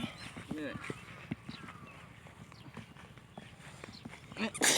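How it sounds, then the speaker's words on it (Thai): Cattle being led out to a paddy field, hooves clopping in an uneven walking rhythm close by, under ongoing conversation, with a louder burst of noise at the end. "เออวัวมาแล้ว"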